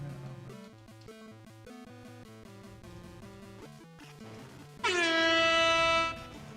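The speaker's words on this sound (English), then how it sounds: "Isn't there an air horn button?" A loud, sustained blast from an air horn sound effect inside a Shrek game, lasting over a second after a stretch of bouncy game music.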